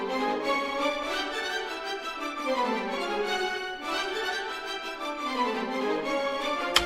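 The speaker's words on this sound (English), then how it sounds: "the main core of our melody is this 3-octave melody on the violins 1," A sampled orchestral violin section plays a melody spread across three octaves, with sustained, vibrato-rich notes sliding between pitches at a moderate level, no voices.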